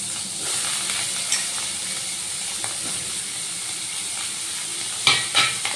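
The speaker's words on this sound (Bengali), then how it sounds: "এবার ফুলকপিগুলো একটু লাল লাল করে ভেজে নেব।" Steamed cauliflower florets fry in mustard oil in a wok, making a steady, close broadband sizzle and hiss, with a few brief stirring clatters near the end.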